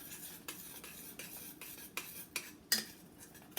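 A spoon stirring a homemade marinating sauce with vodka in a container, producing quiet, rhythmic scraping and clinking strokes roughly every half second, with one sharper clink near the end.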